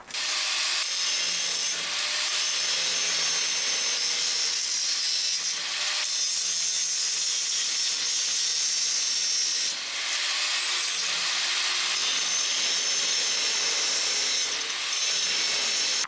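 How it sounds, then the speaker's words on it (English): A power grinder scrubs rust off a steel trailer gate down to bare metal, giving a loud, close, continuous high-pitched grind that briefly dips and surges as the tool shifts against the workpiece. "I'm gonna grind this a little bit, clean up all the rust that's on it and get it down to bare metal"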